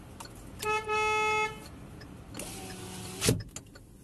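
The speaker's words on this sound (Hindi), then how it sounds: "इसमें आपको कुछ इस तरह का हॉर्न मिलेगा" The horn of a 2023 Hyundai i20 Magna base model honks briefly and clearly up close, followed moments later by a second short honk with some interior clicks around it; no talking.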